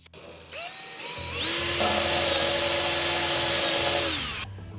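A power drill bores into a clamped workpiece, its whine rising as the bit bites and holding a steady high pitch for about three seconds before spinning down, close and loud with no talk.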